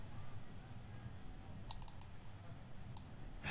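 Soft, rapid keystrokes on a computer keyboard while entering a spreadsheet formula, faint and close, with a few sharper clicks and a low background hum.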